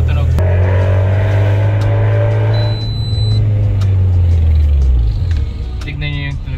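2008 Toyota Vios engine revved hard against the rev limiter, a loud droning buzz that holds high, then drops away as the revs fall, close by and with no talk over it.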